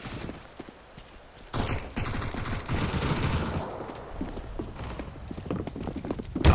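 Counter-Strike: Global Offensive gunfire in an Arms Race match, a quick patter of rapid shots that starts suddenly and runs on, fairly faint, with a louder hit at the end.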